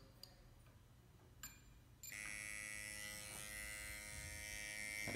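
An FK Irons Spektra XION tattoo machine at 8 volts switches on partway through and then runs with a steady, close, high-pitched electric buzz that holds to the end, with no talking.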